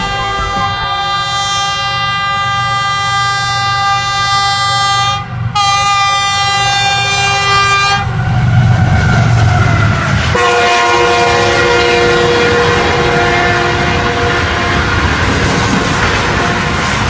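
Jinnah Express train speeding past a Pakistan Railway station, sounding a long loud multi-tone horn that cuts off briefly, then roaring and clattering over the tracks close by.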